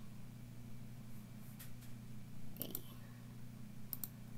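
Computer mouse clicking while working in Microsoft Excel, a few faint, isolated clicks over a steady low electrical hum, with quiet pauses between them.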